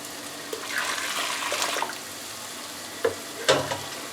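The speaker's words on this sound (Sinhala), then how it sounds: "සූදුරු බැදෙන්න අරින්න." A faint, soft sizzle of cumin seeds frying in a pan, followed by a couple of quick light knocks.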